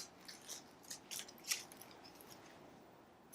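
Scissors snip sewing threads at a sewing machine in a few quick, faint, close clicks clustered near the start, followed by quiet.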